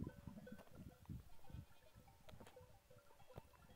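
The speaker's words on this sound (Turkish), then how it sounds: "Yukarıda keçiler var." Goats on a hillside above bleat faintly and at a distance, giving several scattered calls over quiet outdoor background noise.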